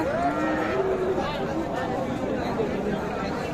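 A Sahiwal cow moos at a busy cattle market, its long low call near and clear at the start, with crowd chatter and livestock noise filling the background throughout.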